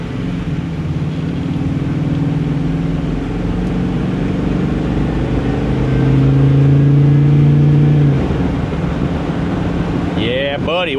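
A Chevrolet squarebody Blazer with a freshly swapped front end drives steadily and makes a U-turn, its engine droning loudly for several seconds and rising in pitch partway through, with wind rushing across the microphone.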